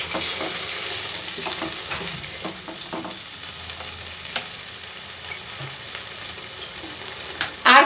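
Spices with Kashmiri chili powder frying in oil in a pan: a steady close sizzle throughout, with a few soft stirring scrapes and a louder clatter right at the end.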